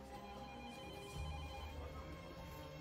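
A telephone rings in a busy restaurant, the steady electronic ring sitting under a dense hum of kitchen and room noise, with no talk over it.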